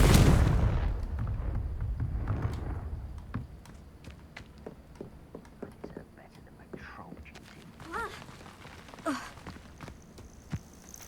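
Confringo fire-blast spell in the Hogwarts Legacy video game: a loud, roaring burst at the start that fades into a rumbling tail, followed by scattered soft thuds and faint whispery effects.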